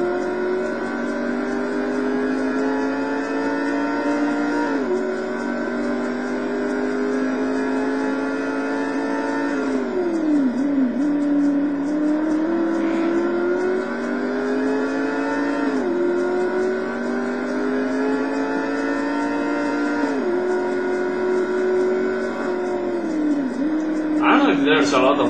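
GTS cup race car engine in a racing video game, revving continuously with rising and falling pitch as gears shift, loud and up close, with a sharp rattling burst near the end.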